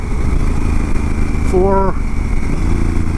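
Honda Africa Twin DCT motorcycle downshifting while slowing, with a steady engine drone and a brief rising-then-falling rev blip mid-clip as a gear drops, heard close under a rider's voice counting.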